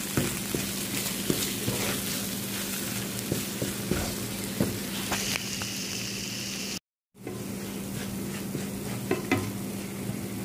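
Maqlooba ingredients with paprika, black pepper, kurma masala and salt stirred and frying in a pan, a steady close sizzle with scraping stir strokes throughout, broken by a brief silent gap.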